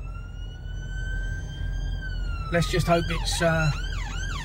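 An ambulance with blue lights flashing sounds its siren on a street, a loud wailing tone that starts steady and then breaks into rapid rising and falling sweeps close by, with a voice talking over it.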